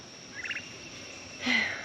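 Black Spanish turkeys gobble in a garden, two short rattling calls about a second apart, the second louder and closer, over quiet outdoor background.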